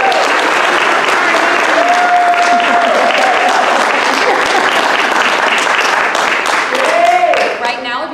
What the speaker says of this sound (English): Everyone give them one more round of applause.